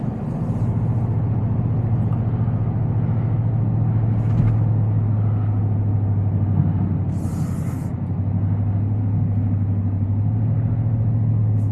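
Supercharged 2026 Ford F-150 Black Widow, lowered, driving along with a steady low engine rumble and drone heard from inside the cab, fairly loud and constant with faint road noise.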